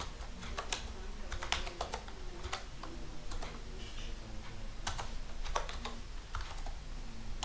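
Rapid typing on a computer keyboard, with irregular bursts of crisp key clicks and short pauses, close and steady over a low background hum, with no talk.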